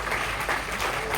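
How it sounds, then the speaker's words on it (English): A crowd claps steadily in a continuous burst of applause, fairly dense and close, with no voices standing out. "Let's give him a big round of applause."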